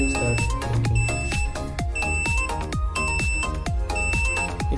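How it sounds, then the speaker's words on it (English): Alarm from an Arduino circuit with a LoRa E32 433T30D wireless receiver, heard as a loud, steady series of bright, ringing electronic tones repeating in a regular rhythm, with no talking. "will give a alarm sound"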